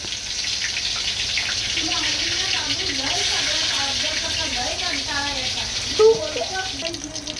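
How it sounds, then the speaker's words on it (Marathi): Cumin seeds dropped into hot oil give a steady, bright hiss of sizzling that runs throughout, with a voice talking over it in Marathi. "आता आपण ह्यात तापलेल्या तेलामध्ये जिरं टाकत आहोत"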